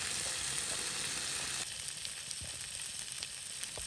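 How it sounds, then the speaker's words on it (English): Bacon-wrapped shrimp and asparagus sizzle in a pan on a backcountry wood stove at Lake O'Hara. The frying is loud and bright at first, then settles into a softer, steady crackle. "I'm gonna cook up these shrimp and asparagus wrapped in bacon."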